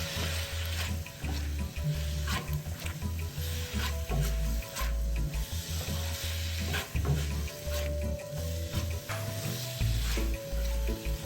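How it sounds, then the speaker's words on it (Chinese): Loud, steady sizzling of fried pork chunks stir-fried in thick, bubbling sauce in a hot pan, with scraping and clattering as it is stirred and tossed in quick, irregular bursts. "快速翻拌，都炒至肉块均匀裹上调味汁"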